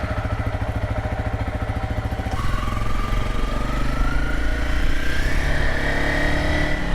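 Honda CRF300LS motorcycle engine idling close by after an oil change, a steady rapid thumping pulse that shifts to a louder, rougher running tone partway through, with no talking.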